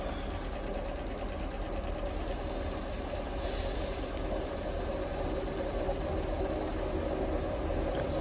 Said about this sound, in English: that's our train is approaching.